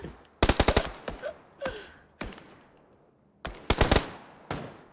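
Gunfire in the battle-royale game PUBG: two rapid bursts of automatic fire, each several sharp close shots, separated by scattered single thuds and a quieter gap, with no talk.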